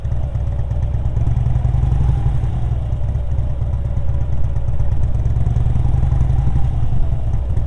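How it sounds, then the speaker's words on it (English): A motorcycle engine runs low and steady with a deep, rumbling drone, rising only slightly under a touch of throttle as the clutch is eased out, close and continuous with no voices. "you can hear the RPMs on the engine build as I give the motorcycle just a minimal amount of throttle as I'm slowly releasing the clutch"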